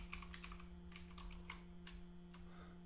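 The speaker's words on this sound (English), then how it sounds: "I could type some stuff now" Quiet typing on a computer keyboard, a string of light irregular key clicks in small bursts over a steady low electrical hum.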